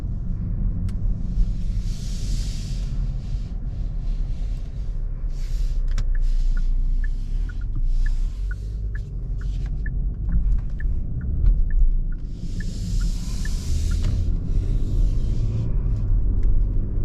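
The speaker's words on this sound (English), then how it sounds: "Alright, so driving this 2023 Genesis G80, this thing is very comfortable." Inside a 2023 Genesis G80 3.5T sedan with rear steering on the move, a steady low road rumble and tire hum fill the cabin, with a faint ticking indicator partway through and no voices.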